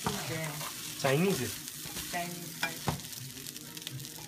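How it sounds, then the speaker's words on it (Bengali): Rice is stir-fried in a pan, giving a quiet sizzle broken by scraping stirs, with someone talking over it in short bursts. "এবার সমানে নাড়া।"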